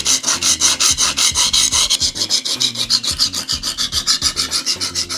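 A chef knife is drawn across a diamond sharpening stone in quick, regular strokes, each pass a harsh gritty rasp, repeated close and loud in a steady back-and-forth rhythm.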